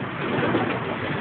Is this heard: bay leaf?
no